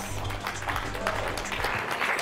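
Audience clapping at the World Economic Forum during a magic trick performance, a steady broadband patter of many hands filling the short moment at moderate level with no voices.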